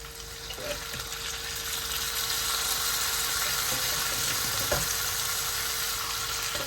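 Lamb taal for a Bangladeshi Shagorana dish sizzles steadily in a pan as stock is poured in, a continuous close frying hiss with faint stirring clicks and no talking.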